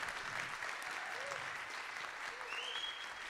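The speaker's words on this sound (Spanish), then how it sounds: "un doble aplauso" An audience applauds an orchestra arranger at a municipal orchestra concert: steady, moderately distant clapping from a crowd, with faint voices and a brief whistle-like tone rising through it.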